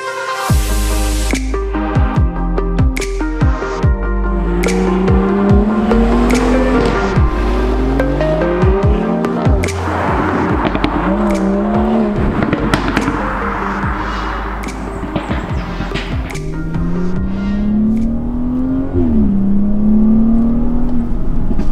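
BMW 340i Performance engine revving hard, rising and falling through repeated throttle blips and sustained pulls, loud and close with a continuous growl throughout and no talk.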